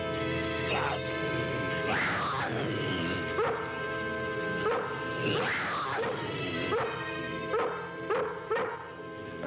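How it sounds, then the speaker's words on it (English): A dog barks and yips in short loud bursts amid whimpering, with a person's voice mixed in nearby and steady background noise throughout. "That's the dog."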